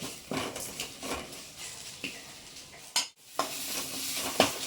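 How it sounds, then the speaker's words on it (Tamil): Chili powder sizzles steadily in oil as a spoon stirs through a pan, with repeated scraping strokes and a brief clink near the end. "இந்த மிளகாத்தூள் எல்லாம் வந்து எண்ணெயிலே வதங்கி வரட்டும்"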